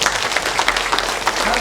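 Citizens at a public forum on household waste and incineration facilities clapping together, a brief, dense burst of applause at close range.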